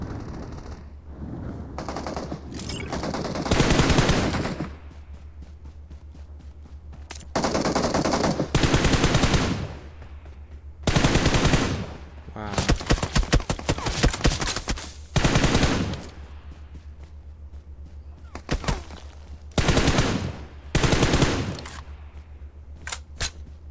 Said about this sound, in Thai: ใครยิงกันเนี่ย